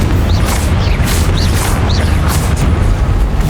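A Confringo blasting spell booms during a Hogwarts Legacy combat challenge, a loud, continuous rumbling barrage with repeated bursts layered over heavy low-end noise.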